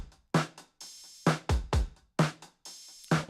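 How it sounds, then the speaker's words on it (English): A steady drum beat from a track plays alone, run through a cassette tape plug-in: kicks and snares punch through a hissy, slightly muffled lo-fi tape texture with a faint roomy tail on each hit. "a cassette plug-in, which I really like. Gives it this nice lo-fi kind of texture."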